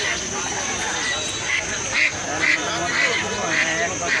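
Ducks at a village poultry market in Hemayetpur, Bangladesh, giving a series of evenly spaced nasal quacks over a constant bed of crowd and market noise.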